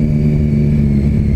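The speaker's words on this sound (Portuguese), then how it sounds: "E aí, vamos testar o escapamento?" A car engine revs loudly through a newly replaced, loud exhaust, a deep steady rumble held at close range for the whole short stretch with no talk.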